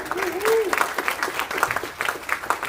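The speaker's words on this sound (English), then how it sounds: "Let's give him another round of applause." A church congregation applauding during a Sunday worship service, scattered clapping rising and falling under a speaking voice and a brief sung or held tone near the start.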